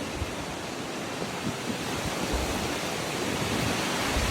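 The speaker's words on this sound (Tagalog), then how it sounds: "Lakas na hangin." Strong, cold wind roaring steadily into the microphone outdoors in Nasushiobara, Japan, a loud, continuous rush with low buffeting.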